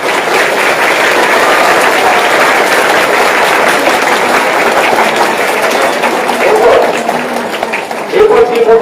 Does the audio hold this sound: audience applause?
yes